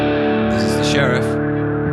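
Heavily distorted electric guitar played through a Victory V4 Sheriff amp with wet effects, a sustained chord ringing loud and close with chorus and echo shimmer, no talk.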